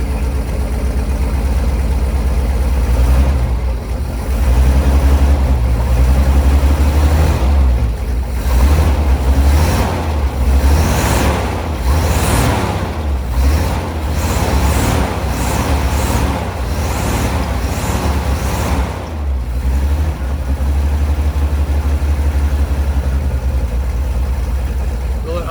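A 1955 International R160 dump truck with a sticking throttle runs loudly and steadily, its deep rumble rising and falling slightly, with a person speaking over it.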